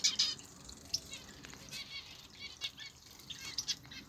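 Nouméa parrotfinch and Ruficauda finch bathing in an outdoor aviary, with rapid bursts of wing flapping and splashing repeating throughout, near and fairly soft, with a few faint high chirps.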